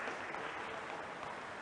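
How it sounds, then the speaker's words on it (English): An audience at an English-language school debate applauds, a dense and steady clapping that fills the whole stretch without a break at moderate level. "give a big round of applause for such improvement in the education system"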